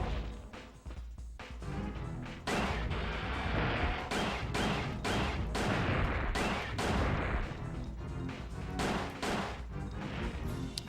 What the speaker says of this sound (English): I was caught in the middle of that gunshot